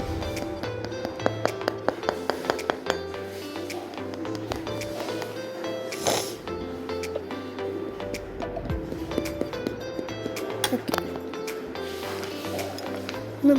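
Clay being tapped and flattened by hand while shaping a flowerpot, a run of sharp repeated taps in the first few seconds easing into softer, irregular pats over steady background hum.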